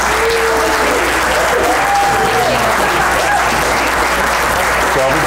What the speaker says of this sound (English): let's give another round of applause for our contestants this evening